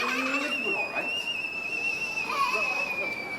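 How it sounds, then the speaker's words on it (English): A boiling liquid detector whistles during a science demonstration at Liberty Science Center, giving a steady high-pitched tone that holds through the whole moment at moderate loudness, with faint background voices and room noise. "the boiling liquid detector will whistle"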